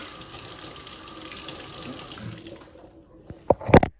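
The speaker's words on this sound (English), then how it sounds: "Wash your hands." Water runs steadily from a tap during handwashing, a continuous hissing splash that fades out, followed by a few sharp knocks and clatters near the end.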